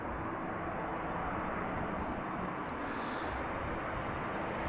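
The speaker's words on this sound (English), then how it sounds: "Embraer 175 leaving." An Embraer 175 jet departing Amsterdam Schiphol Airport gives off a steady, broad roar that holds at an even level for several seconds, with no talk over it.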